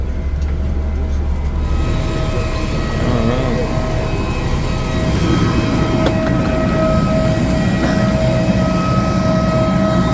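An idling airport bus gives a steady low engine rumble and interior hum, with a muffled voice and faint clanks on top.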